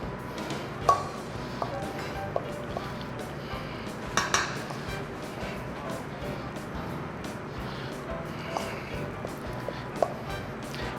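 Thick dumpling dough mixed in a bowl with a utensil, giving a steady soft scraping with occasional light clinks against the bowl, close and fairly quiet.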